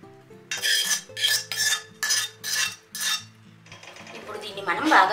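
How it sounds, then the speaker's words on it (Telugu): A spoon mixes gooseberry pickle with tempering and lemon juice in a bowl. About six rhythmic scraping, clinking strokes come up close, followed by softer, more continuous stirring. "మనం బాగా మిక్స్ చేసుకోవాలి."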